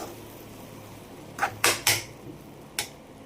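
A lid set onto a pan of bottle gourd and moong dal curry, heard as a quick cluster of three sharp metallic clanks followed by one more a moment later, close and clear over quiet background.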